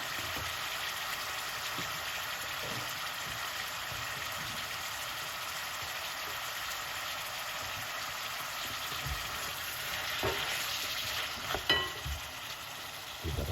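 Chili peppers and vegetables for jerk callaloo fry in a pan with a soft, steady sizzle. Stirring knocks and scrapes get louder near the end.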